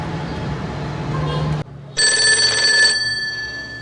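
A telephone in a home gives one short, loud electronic ring burst lasting about a second, after a stretch of muffled background noise.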